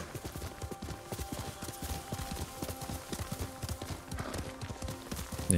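Hooves of a horse in the feudal Japan adventure game Ghost of Tsushima drum a regular, close clip-clop rhythm for several seconds, with a brief neigh woven in and a louder thump at the very end.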